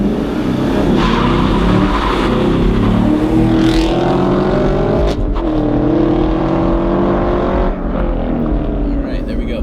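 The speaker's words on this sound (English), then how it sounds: "here we go on the Camaro, 0 to 60 run." Chevy Camaro SS, a rear-wheel-drive car, launching hard on a 0 to 60 run: a loud, close engine roar climbing through the revs with a gear change partway, sustained and powerful throughout.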